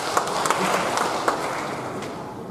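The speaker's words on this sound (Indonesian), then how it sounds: "Tepuk tangan, Pak." Applause fills a regional council plenary session hall, a steady, moderately loud crowd clapping with scattered sharper claps throughout and no clear voices.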